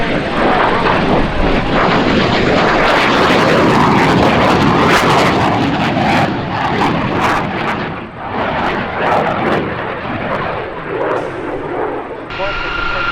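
T-38 Talon jets waving off their landing at an airshow in London: a loud, continuous jet roar sweeping past and slowly fading.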